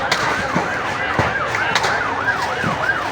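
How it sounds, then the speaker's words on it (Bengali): A fire service vehicle's siren wails in repeated rising and falling sweeps as it arrives at a slum fire in Mirpur Kalshi. The siren is steady and moderately near, set against a low background din. "ওই যে ফায়ার সার্ভিসের লোক নিয়ে আসছে, ফায়ার সার্ভিস আসছে এখন।"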